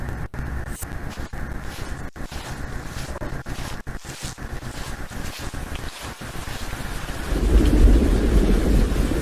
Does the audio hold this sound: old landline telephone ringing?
no